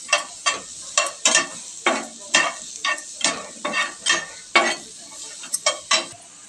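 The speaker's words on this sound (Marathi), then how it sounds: "ह्या पॅन मध्ये आपण कांदे परतून घेऊया" Onions being sautéed in a pan for Kolhapuri misal, with a spatula scraping and stirring in a quick, irregular rhythm of sharp strokes over a faint sizzle, close and clear.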